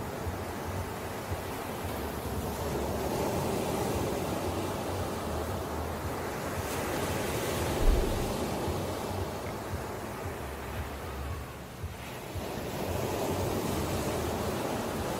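Ocean surf by a dog plays as a steady, washing roar of waves with wind-like hiss, swelling and ebbing gently over a long stretch, with no voices.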